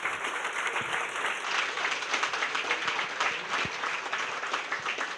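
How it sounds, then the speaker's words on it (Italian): A crowd applauds an invited guest at a campaign launch event, with dense, sustained clapping that stays fairly loud and even throughout, with no voices on top. "lo ringraziamo, un grande applauso, Riccardo Donadon"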